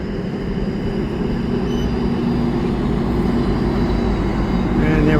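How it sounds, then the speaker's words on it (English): A GMD-built F59PHI diesel locomotive pushes a commuter train of bilevel coaches at a city terminal, giving a steady, loud low rumble of engine and rolling cars close by that grows slightly louder toward the end. "General Motors Canada GMD, General Motors Diesel, built in London, Ontario, F59 PHI, pushing this."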